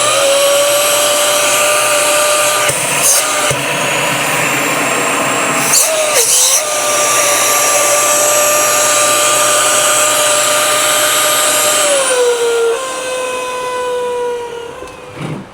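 A Dyson Ball upright vacuum cleaner running under suction, a loud steady whine with a strong tonal hum that dips briefly a few times as the airflow changes, then shifts pitch near the end.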